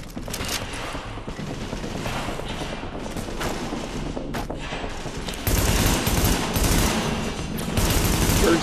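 Blind firing in The Division video game, a steady stream of gunfire with sharp spikes of shots throughout, growing louder and denser in the second half.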